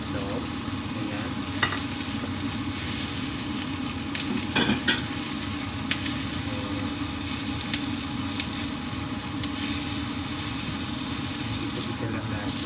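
Sliced hotdog frying in a pan while macaroni soup is prepared, a steady low sizzle with occasional stirring clatter and scraping running throughout at a moderate, close level.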